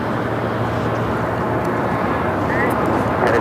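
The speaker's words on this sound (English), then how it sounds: "Also the Eva Air passenger 777-300ER heading down for a south side takeoff at 25 right." An Eva Air Boeing 777-300ER passenger jet rolls for a south-side takeoff on runway 25 right, a steady, broad engine roar held at even loudness under a talking voice.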